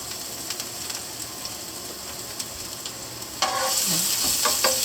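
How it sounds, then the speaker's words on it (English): Jarred garlic hits hot olive oil in a pan and bursts into a loud, steady sizzle that swells midway, with light stirring scrapes; the frying runs close and continuous without any voices. "Stir it around in that olive oil a little bit."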